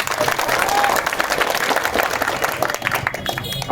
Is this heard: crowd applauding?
yes